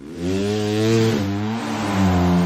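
A race motorcycle fitted with an illegal exhaust modification revs loud and close, its engine note rising and dropping through a sustained, steady roar with no speech.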